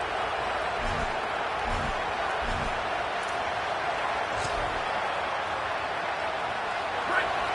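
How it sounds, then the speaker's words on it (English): Steady roar of a large stadium crowd at a college football game on opening day, loud and continuous throughout, with a few muffled thumps and a commentator's voice faintly underneath. "This crowd trying to make life miserable for this offense."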